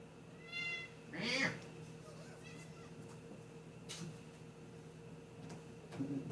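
A cat meows a few times nearby, short plaintive cries over a quiet room hum, with a person speaking softly.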